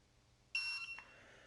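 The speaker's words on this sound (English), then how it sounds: "we're going to hold down the set button until it beeps once." A TPMS monitor gives a single short electronic beep after its set button is held, a bright tone lasting about half a second against a quiet background, with a faint tail after it.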